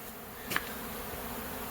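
Steady, faint buzzing of honey bees at a feeding spot in the background, with a brief rustling tick partway through.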